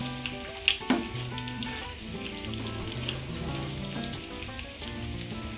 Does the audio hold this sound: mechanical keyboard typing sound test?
no